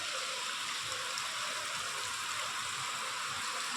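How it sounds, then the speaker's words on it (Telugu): Steady, dense hiss of heavy rain pouring down without pause over a road running with water and overflowing drains, a constant broadband wash with no voices. "ఈ వర్షంలో ఒక్కరు కూడా బయటకు వచ్చే ఛాన్స్ లేని వర్షం పడుతుంది"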